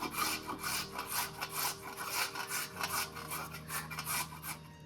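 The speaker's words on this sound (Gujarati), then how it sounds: "ગાજરને ધોયા બાદ આપણે આ રીતે છીણી લેવાની છે," Peeled, washed carrots are rubbed against a grater for gajar halwa, producing a close, steady rhythm of rasping scrapes, each stroke swelling and fading in quick succession.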